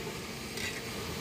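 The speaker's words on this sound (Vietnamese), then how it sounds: "Rồi, chiên lươn qua. Chiên sơ thôi nha mọi người, đừng có chiên chín, chiên giòn quá là không được nha." Eel pieces shallow-frying briefly in a pan for a Vietnamese braised eel dish with green banana and tofu, giving a steady close sizzle with a brighter hiss swelling midway.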